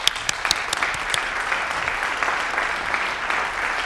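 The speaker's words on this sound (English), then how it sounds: "We owe you a round of applause." An audience gives a round of applause, with dense clapping that starts with a few sharp, prominent claps and then settles into a steady, sustained wash.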